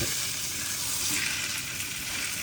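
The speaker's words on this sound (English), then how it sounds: "So I might just keep on searing this thing." Tuna steak searing in a hot pan, a loud continuous sizzle and crackle of frying with no voices, steady throughout.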